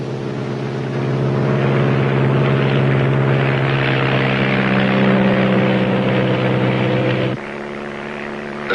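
Small propeller planes drone steadily overhead above rainforest, a loud continuous engine hum with strong low tones that swells after the first second, then drops in level and pitch near the end.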